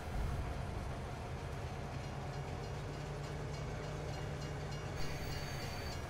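Steady rumble of a three-car freight train in Farming Simulator 22, a continuous low rolling drone with faint rail clatter that holds evenly throughout, heard alone without any talk.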